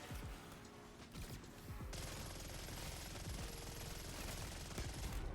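PPSh submachine gun firing in Black Ops 6 Zombies: rapid continuous automatic bursts at close range, a dense rattling stream of shots that runs almost unbroken across the whole stretch, with sharp cracks layered over low thumps.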